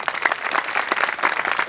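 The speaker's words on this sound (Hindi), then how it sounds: "शानदार प्रस्तुति, एक बार और तालियां।" Audience at a cultural festival program claps briefly after a performance, a close, lively burst of many hands with audible individual claps.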